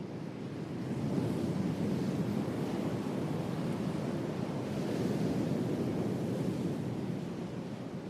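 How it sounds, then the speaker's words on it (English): Tide coming in on a shore, a broad, steady rush of surf with gentle swells in loudness and some wind, continuous and unaccompanied by voices. "They were watching the tide coming in, like a beast waiting to pounce."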